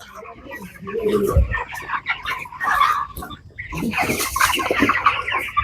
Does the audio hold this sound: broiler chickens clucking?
yes